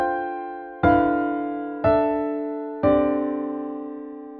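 A musical example harmonized in parallel fifths: three sustained chords struck one after another about a second apart, each with a clear attack that slowly decays, with no voices.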